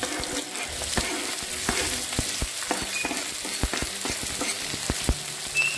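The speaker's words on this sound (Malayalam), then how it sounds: "ഈ സവാള നന്നായിട്ടൊന്ന് വഴറ്റിയെടുക്കാം." Onions sizzle and fry steadily in a pan over ginger and garlic for a vegetable curry, with frequent close stirring clatters against the pan and no talking.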